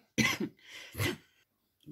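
A woman coughs hard twice in quick succession, each cough a sharp, loud burst close to the microphone, followed by a brief raspy throat sound and a third cough starting at the end.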